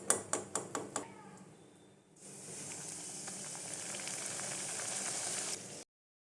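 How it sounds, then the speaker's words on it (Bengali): Luchi fry in hot oil in a steady, moderately loud sizzle lasting several seconds, preceded by a run of five sharp clicks and a quieter pause. "একটু লাল লাল করে ভাজতে হবে লুচিগুলো"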